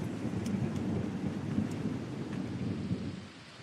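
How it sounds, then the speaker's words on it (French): Steady rain pours down outdoors in Papua New Guinea, a dense broadband hiss with low rumbling underneath, continuous and fairly close, with no voices. "Il pleut, il pleut."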